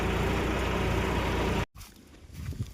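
A tractor engine runs with a loud, steady rumble in a farm field, then cuts off abruptly, leaving quieter background noise.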